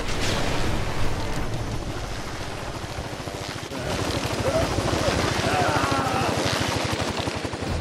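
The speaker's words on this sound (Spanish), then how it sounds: "Vale, ese helicóptero, tío, ¿de quién es?" Helicopter in the video game InFAMOUS 2, a steady, fast rotor thump pulsing loudly under spoken commentary, with game noise and rushing effects layered on top.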